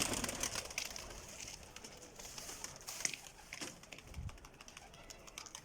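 Pigeons coo softly at a loft, a low murmuring call rising now and then over steady background noise, with occasional wing flutters and faint distant activity.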